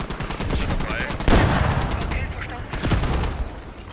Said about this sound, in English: Mortars just landing on the tank, so that way the crew can't dismount and get this repair up.